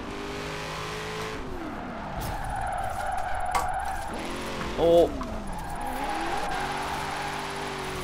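A Chevrolet C8 Corvette in Forza Horizon 4 roars through rising and falling engine revs while its tyres squeal in a drift, with a brief voice exclamation and a short thump midway.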